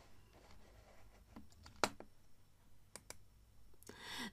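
A mouse click on the Run button in Report Builder while building a paginated report with indicators and databars: a single sharp, close click stands out, with a few fainter ticks scattered through otherwise quiet room tone.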